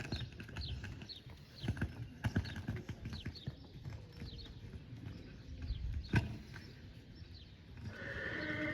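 Rhythmic hooves clip-clop steadily on a hard surface, with a horse whinnying and other farm animals faintly in the background.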